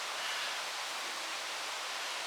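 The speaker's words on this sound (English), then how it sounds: "if you listen, you can hear the waterfall, which is literally just round that corner there." A waterfall in Little Langdale near Elterwater, a steady broadband rush of falling water heard from a little distance, faint and unbroken with no other sounds.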